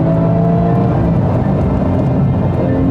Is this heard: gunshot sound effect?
no